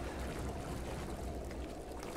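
Swimming through murky water full of dead fish in Resident Evil 7, a steady muffled underwater wash with broadband sloshing, constant and close, no voices.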